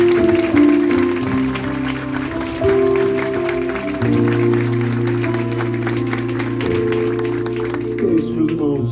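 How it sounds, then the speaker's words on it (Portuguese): Applause in a church during Christmas Mass, a long run of clapping from the congregation that mixes with a sustained sung or organ tone. "Vamos dar uma salva de palmas para vocês."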